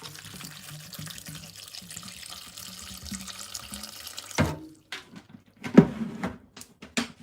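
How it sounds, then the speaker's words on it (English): Distilled water pours steadily into a cooking pot for a chicken dish with vegetable stock, a continuous running trickle for several seconds, then stops and gives way to a few close clunks and knocks. "And then I'm going to add my distilled water in."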